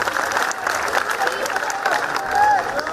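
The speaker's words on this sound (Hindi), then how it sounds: "इनको ताली बजाकर धन्यवाद।" An audience claps together in a hall after a spiritual question-and-answer talk, a dense, steady wash of applause lasting throughout at even loudness.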